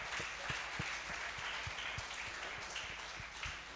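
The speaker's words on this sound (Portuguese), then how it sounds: "aplauda o nome de Jesus" A church congregation applauding during a Portuguese-language worship service, with scattered claps and sharper individual hand strikes over a steady, fairly quiet murmur of the room, going on evenly throughout.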